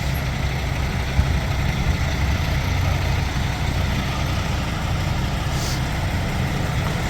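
Engines idle at the Clarendon Classic vintage machinery show among tractors, steam engines and trucks, a steady low rumbling drone that stays close and constant with no pauses and no voices.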